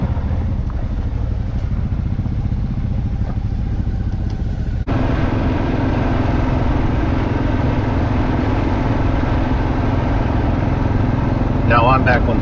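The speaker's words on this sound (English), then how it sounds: "I'm back on the Vstrom and riding downhill" A Suzuki V-Strom motorcycle rides downhill, its engine a steady, close drone blended with constant wind rush that holds at one level throughout.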